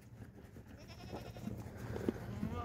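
Goats at feeding time in a pen, with a few short bleats rising over a low background of shuffling and movement.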